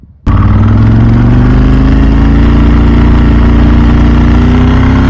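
A Ducati 998S superbike engine fires up abruptly and settles into a loud, close, steady idle with a deep lumpy V-twin throb and a faint climbing whine, sustained without any voices.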